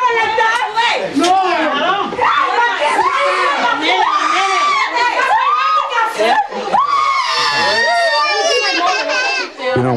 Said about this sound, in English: one starts screaming, the next one starts, before you know it, they're all freaking yelling